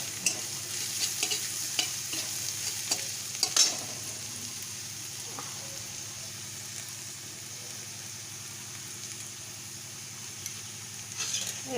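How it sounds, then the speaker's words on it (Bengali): Garlic fries in oil with onion and garam masala, giving a low, steady sizzle, with occasional stirring clinks and scrapes against the pan, fairly quiet and close. "এবার রসুনটা ভেজে নেব সুন্দরভাবে।"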